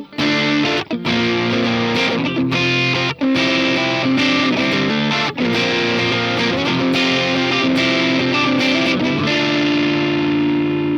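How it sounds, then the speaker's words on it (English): Electric guitar through the tube drive effect of a Donner Arena 2000 multi-effects unit, a loud, continuous overdriven riff with chugging chords and short breaks, played alone. "Here's a tube drive."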